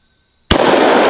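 A single sharp gunshot from a double-barrel 1911 pistol fired outdoors at a 2-liter bottle target, erupting loudly out of silence and followed by a long, dense echoing decay with a faint second crack near the end.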